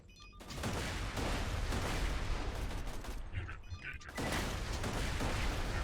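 Child grenades in Borderlands 2 setting off a dense, sustained barrage of crackling blasts and gunfire-like bursts, loud and continuous with a brief lull midway.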